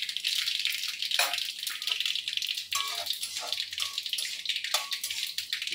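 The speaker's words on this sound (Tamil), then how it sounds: "கடுகு பொரியட்டும்." Mustard seeds spluttering in hot oil for a stalk-greens kulambu, a dense close crackling rattle of rapid pops with a few sharper bursts.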